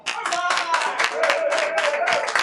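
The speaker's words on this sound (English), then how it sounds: "Clap for this following individual." A crowd at a Miami-Dade County campaign kick-off claps in quick, dense, rhythmic bursts for the candidate's husband, while voices and cheering carry beneath the hand claps.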